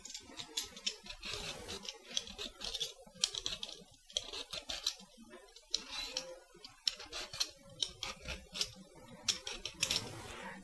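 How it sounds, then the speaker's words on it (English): Sweet potatoes being peeled by hand in a home kitchen, a run of quick, close, crisp scraping strokes repeating in an irregular rhythm, fairly quiet with no talking. "I've finished peeling out my potatoes."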